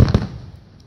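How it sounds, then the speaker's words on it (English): Fireworks grand finale at Indian Lake, Ohio, a large lakeside display: two sharp, loud booming bursts in quick succession, then a fading rumbling echo and crackle tail. "Biggest fireworks in Ohio this year."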